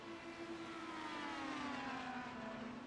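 Indy car engine in a racing video game at Watkins Glen, a steady high-pitched drone that slowly drops in pitch as the car exits a corner, loud and continuous with no talk.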